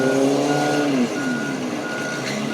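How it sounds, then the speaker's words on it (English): A car engine revving hard for a couple of seconds, its strained harmonic whine dropping in pitch after the first second, then holding steady and loud, with no talk. "Y'all hear that car going?"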